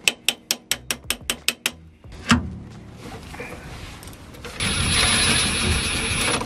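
An impact gun rattles in a quick series of sharp bursts while unscrewing drive shaft bolts on a Skoda car, followed by metallic clunks and a steady mechanical whir.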